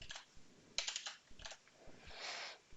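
Keys on a computer keyboard are typed in several short bursts of clicks with brief pauses between them, ending in a longer run of faster keystrokes, close and clear with no talking.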